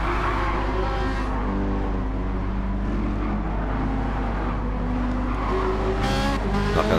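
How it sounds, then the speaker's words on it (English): A Ferrari race car in Gran Turismo 7 on the Deep Forest track gives a loud, continuous high-revving engine drone that rises and falls in pitch, with a brief tire squeal near the end. "Distinctive sound of the Ferrari."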